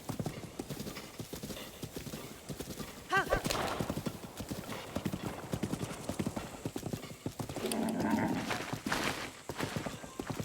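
Hooves clip-clop steadily while a horse neighs and whinnies in Zelda: Breath of the Wild, with music and game sounds running under it.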